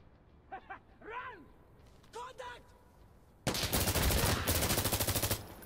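Sustained full-auto gunfire from a rifle in the tactical shooter Insurgency Sandstorm, a loud, rapid, evenly spaced burst lasting about two seconds, coming after a few moments of quieter talk.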